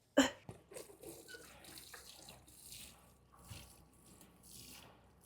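Water poured over a newly planted plant in a front garden, splashing and trickling onto soil and leaves at close range. A sharp initial splash is followed by an irregular, gentle flow.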